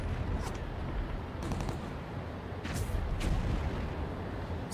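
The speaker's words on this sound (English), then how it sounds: "Somebody's taking shots with the big guns." Heavy artillery guns firing in an anime battle scene, heard as a continuous rumbling barrage of deep booms with a few sharper cracks, loud and without talk.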